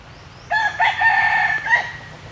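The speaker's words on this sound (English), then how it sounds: "Hello, Mr. Rooster. I see you." A loose rooster in a botanical garden in Angkor crows once, a loud, close cock-a-doodle-doo lasting over a second with a rising start and drawn-out end, against quiet outdoor background.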